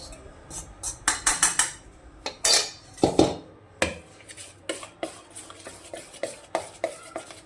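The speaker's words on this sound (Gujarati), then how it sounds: "હવે આપણે બેટર સરસ રીતે મિક્સ કરી લેવાનું છે" Cake batter is mixed by hand in a bowl, with quick, bright clinks and scrapes of a utensil against the dish in short irregular bursts, close and clear.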